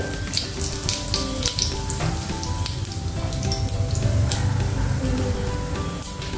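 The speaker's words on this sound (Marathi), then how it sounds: "त्यानंतर आता त्याच्यामध्ये फोडणीला मी जिरं घालते" Cumin seeds sizzling and crackling in hot oil for tempering, a steady bubbling fry with sharp pops scattered throughout, close up and without talk.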